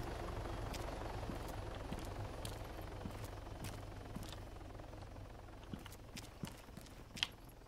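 Helicopter in the Arma 3 video game, a steady low rotor drone held throughout at moderate distance, with scattered light footstep-like taps over it.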